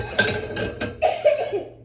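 A short, sharp sneeze-like burst of breath, followed by a few quieter clatters and exhalations close by.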